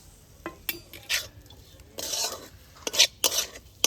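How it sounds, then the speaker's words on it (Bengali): Cauliflower is tossed with ground spices in a bowl, giving intermittent scraping and clinking strokes of a utensil against the dish, close and moderately loud, in short uneven bursts with quiet gaps. "সবকটা গুঁড়ো মশলার সাথে ফুলকপিটাকে খুব ভালোভাবে মিশিয়ে নিচ্ছি"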